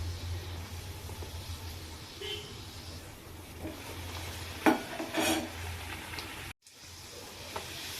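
Plain white luchi, puffed Bengali flatbread, frying in hot oil: a steady sizzling hiss over a low hum, with a few sharp utensil clinks and stirring scrapes. No one speaks.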